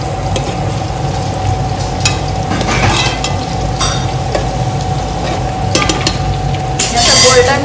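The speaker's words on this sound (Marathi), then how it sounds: "आता आपला इथे एक कांदा, कांदा आपला आता फ्राय होऊन द्यायचा" Onion fries in a hot pan, giving a steady, loud sizzle that fills the whole stretch, with occasional stirring scrapes and light clinks.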